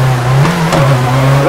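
A rally car in a WRC racing video game is taking a handbrake turn, its engine holding a loud, steady drone with a brief pitch dip and rise through the corner, close up.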